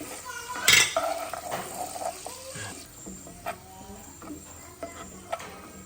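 Green chillies and curry leaves are stirred in a pan for chicken 65 curry: a metal spoon scrapes and clinks softly, with a sharper knock near the start and faint intermittent taps after.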